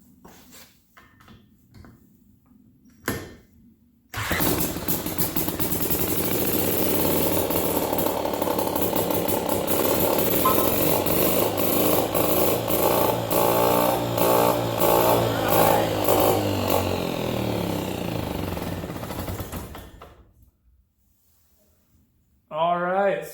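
An old Jacobsen two-stroke engine, unused for over 40 years, cranks cold and catches, then runs loudly and raggedly for about fifteen seconds before cutting out, with brief mechanical noise before and after.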